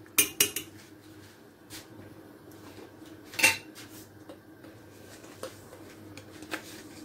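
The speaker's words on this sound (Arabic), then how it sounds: "نعطيو جهد للبوطه باش ما تلصقناش. حركوها شويه حتى تبغى تبقى تغلى" A cooking pot of macaroni is stirred, with sparse metallic scrapes and clinks of utensil against pot over a quiet background, a few louder knocks standing out.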